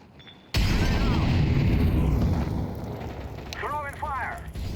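An incendiary fire grenade in a tactical video game erupts with a sudden loud boom, then a steady roaring burn follows, with faint chirpy tones near the end.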